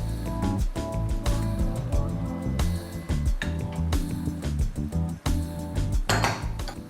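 Utensil clinking and scraping in a dish while taco seasoning and salsa are stirred into a potato bake, a busy run of irregular metallic clatters and knocks, close and fairly loud.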